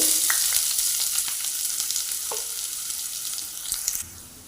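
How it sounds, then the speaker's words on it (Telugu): Onions sizzle and crackle in hot oil in a pan for a masala egg curry, a close steady frying hiss with a few stirring clinks, ending in a sudden drop to quieter sizzling. "ఆయిల్ వేసుకుందాము ఇదంతా కర్రీ కోసం అండి ఇప్పుడు ఉల్లిపాయలు వేసుకుందామండి"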